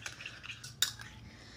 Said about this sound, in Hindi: अब हमें इस तीनों इंग्रेडिएंट्स को मिक्स करना है, एक पेस्ट टाइप में करना है हमें